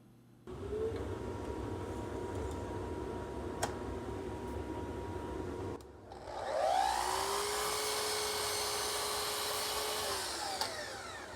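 A power saw miters the end of a plywood edge strip in a truck camper build, running with a steady whine, pausing briefly, then spinning up again and cutting with a louder rising drone that holds before winding down; no talking.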